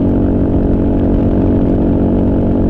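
A Kawasaki KLR motorcycle cruises at highway speed, around an indicated 90 mph and just under 6,000 RPM, its engine a loud, steady, unbroken drone with wind roar heard from the rider's position.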